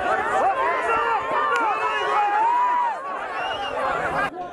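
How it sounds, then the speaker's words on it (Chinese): At a snowy horse race in rural Mulei County, Xinjiang, a crowd cheers and shouts in a continuous, busy babble, fairly loud and close, with hooves not clearly distinct beneath the voices. "马蹄声声，喝彩阵阵"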